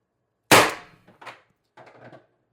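TR50 CO2 air rifle firing a single sharp, close crack that decays quickly, followed by a couple of softer, fainter knocks.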